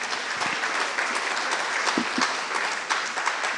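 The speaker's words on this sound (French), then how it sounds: "Guillaume est là, on l'applaudit bien fort." A conference audience at a science centres congress applauds loudly as a speaker is introduced, a dense, continuous burst of clapping from many hands, with a few closer, heavier claps popping out.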